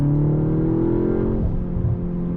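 A 2025 BMW M235 Gran Coupe accelerating hard, its engine note climbing in a loud rising drone from inside the cabin, then briefly dipping as a gear change comes through before pulling on again.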